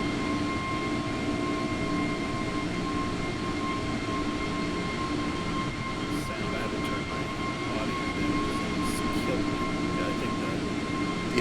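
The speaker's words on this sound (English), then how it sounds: "The outside engine sounds are super loud." Outside engine noise of an Airbus A320 in Microsoft Flight Simulator 2020, a loud, continuous jet drone with steady whining tones that holds evenly throughout.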